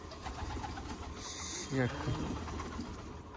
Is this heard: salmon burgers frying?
no